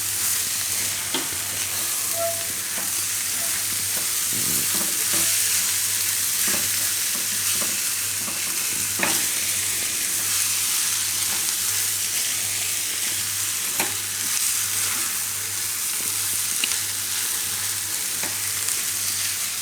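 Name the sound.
stirring paneer into the spice mixture in a pan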